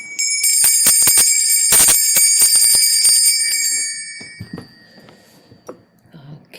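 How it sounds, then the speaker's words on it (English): A small handheld bell is rung during a tarot reading, ringing out loud and bright several times in quick succession and then fading away, with faint soft noises after. "And the bell."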